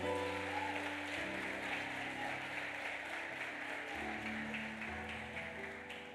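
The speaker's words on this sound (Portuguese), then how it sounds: "Aplauda Jesus." A church congregation applauds in praise, with a steady wash of clapping under sustained musical tones, held at a low, distant level throughout.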